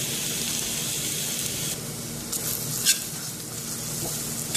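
Onions and black pepper sizzle steadily in a pan for a beef fry, a close, even hiss with a utensil stirring and knocking now and then. No one talks.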